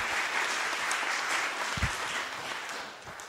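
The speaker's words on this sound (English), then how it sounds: "I think they both need a bit of a clap." A church congregation gives a short round of applause after a Bible reading, dense, steady clapping filling the room for several seconds with a single low thump partway through.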